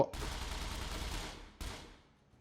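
Gunfire in the survival shooter Scum: a sharp shot with a long decaying tail, then a second report about a second and a half later, both loud and close.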